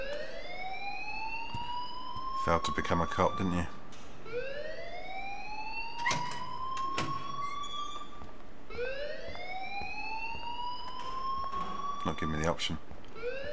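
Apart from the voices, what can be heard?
alarm ringing in the video game Life Is Strange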